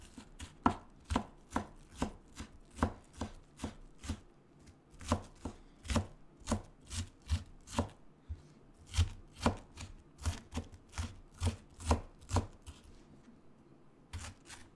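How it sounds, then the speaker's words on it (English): A knife chops food finely on a board in a quick, uneven series of close, crisp thuds, repeated steadily with short pauses between bursts, no one talking. "Now we can just kind of chop it up."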